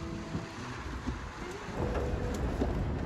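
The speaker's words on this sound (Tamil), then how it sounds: "செம்ம அலை அடிக்குது" Storm waves during a cyclone crash on the shore as a heavy, rumbling wash of surf that swells louder partway through and stays dense to the end, without voices.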